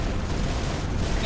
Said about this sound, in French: Noble 6, détruisez ces tourelles lourdes.